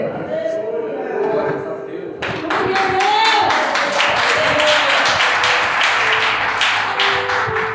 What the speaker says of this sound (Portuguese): Essas palmas ficou muito xoxa.